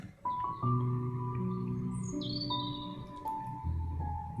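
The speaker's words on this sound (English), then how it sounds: "The birds are chirping, telling me that all is well." Birdsong near the edge of a forest, with several birds chirping and whistling in overlapping clear calls and tonal trills, close and steady throughout over a soft background hum.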